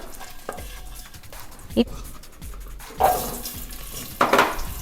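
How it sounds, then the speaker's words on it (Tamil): Asafoetida and turmeric sauté in hot oil with a low, continuous sizzle, lifted by three louder spattering bursts as the spices are stirred. "எண்ணெய் காஞ்சதும் கொஞ்சம் பெருங்காயத்தூள், கொஞ்சம் மஞ்சள் தூள் கொஞ்சம் இப்படி வதக்கிக்கலாம்."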